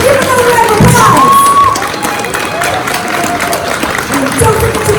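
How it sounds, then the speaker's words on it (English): A convention crowd at a fan-expo Q&A panel applauds and cheers loudly and continuously, with scattered whoops and shouts rising over the clapping throughout. "please give another round of applause"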